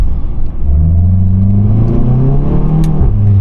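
Tuned VW Golf 7.5 GTI fitted with a full exhaust system, keeping a stock-like exhaust tone: a steady, loud engine drone that climbs in pitch as it accelerates, then dips briefly and rises again near the end.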